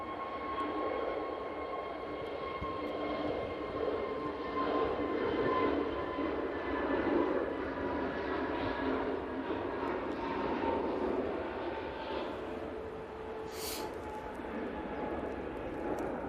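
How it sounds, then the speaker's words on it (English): An airliner departs Manchester Airport bound for Malaga, a faint, distant engine drone with steady whining tones that hums on evenly, and a voice murmurs briefly. "Beautiful departure there. That's off to Malaga."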